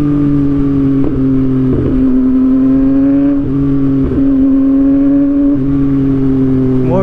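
A Yamaha MT-09 motorcycle engine runs loud and close, with its tone rising through the gears, brief crackling pops between shifts, and no voices.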